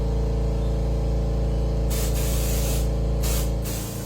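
An aerosol can sprays liquid mask onto RC car bodies in a loud, continuous hiss, with short bursts that break off and restart toward the end.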